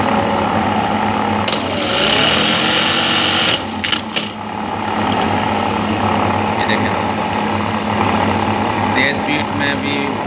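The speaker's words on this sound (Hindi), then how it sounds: "अब मैं एक तेज़ स्पीड में आपको काज करके दिखाता हूँ कि तेज़ स्पीड में काज कैसे कर रही है।" A Juki buttonhole sewing machine stitches at high speed, giving a loud, continuous mechanical whir and rapid needle chatter close by, with a brief dip partway through before it carries on.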